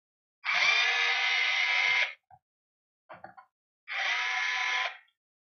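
A cordless power screwdriver set to a low torque setting loosens two screws, giving two steady whirring bursts of about one and a half seconds each, separated by a pause with brief small clicks and handling noise.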